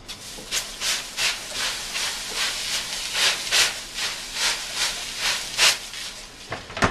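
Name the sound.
spray bottle misting water inside an oven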